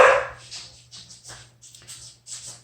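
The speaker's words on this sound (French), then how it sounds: "j'ai mes chiens qui s'énervent," Several agitated dogs bark indoors in short repeated volleys, one loud close bark followed by a string of fainter, muffled barks spaced unevenly over a low steady hum.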